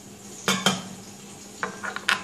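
A spoon clinks against a bowl while turmeric and chilli powder are stirred into a little water for a Bengali lau chingri dish, with a few sharp metallic taps and scraping stirs separated by pauses.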